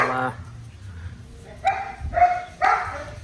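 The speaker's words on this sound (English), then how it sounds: "get back to watching the dog go crazy" A dog barks excitedly in a workshop where a VK Commodore rear door is being restored: three sharp, mid-distance yaps in quick succession after a brief murmur of talk, over a low room rumble.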